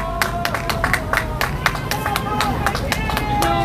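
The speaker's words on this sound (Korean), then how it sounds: "큰 박수로 함께 해주십시오" A crowd at a street rally near Gangnam Station applauds with dense, sharp clapping, loud and close, with some crowd noise mixed in.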